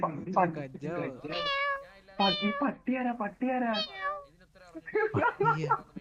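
A cat meows repeatedly at close range, with several drawn-out, wavering cries while a person speaks over and between them.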